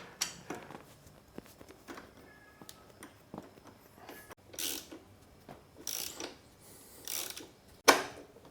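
Hand tools work on the rear brake of a KTM/Husky two-stroke motorcycle, with scattered clicks of a ratchet, metallic taps and short clinks of parts, close and fairly quiet with pauses between bursts.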